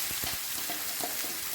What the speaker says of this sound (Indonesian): Kemudian dimasukin aja atau ditumis di bumbu yang udah dihalusin.